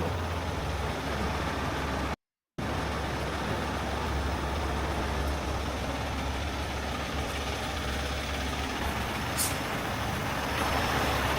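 A semi truck engine rumbles steadily in heavy rain on a freeway, a loud continuous low drone with a brief hiss of air brakes near the end.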